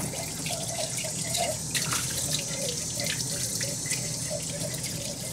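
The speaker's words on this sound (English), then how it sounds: "rinse out the jar real good" A jar being rinsed out under running tap water in a kitchen sink while making milk kefir, a steady close trickle and splash with small drips and sloshes throughout.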